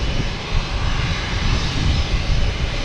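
A JetBlue Airbus A320 airliner, eighteen years old and arriving from San Juan at Boston Logan, gives a steady, loud, broadband engine roar that holds evenly throughout with no voices.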